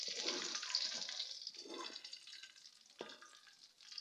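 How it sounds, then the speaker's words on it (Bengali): Crushed garlic frying in oil in a wok, giving a steady close hiss and sizzle with a few soft stirring scrapes partway through, with no talking. "এখন রসুনটা 2-1 মিনিট ভেজে নেব।"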